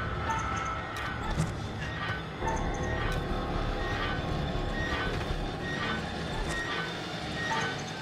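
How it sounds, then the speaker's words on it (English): Bicycle ridden by a man in the horror video game Little Hope: a steady, rattling mechanical rumble with repeated clicks and metallic clatter, fairly loud and continuous throughout, with no talk. "That noise was just the old guy from the bar on his bike."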